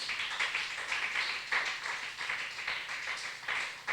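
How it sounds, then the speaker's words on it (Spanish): A church congregation applauds steadily, with dense, moderately distant clapping that swells and dips slightly, alone and without talk. "Era un aplauso al Rey de la Gloria."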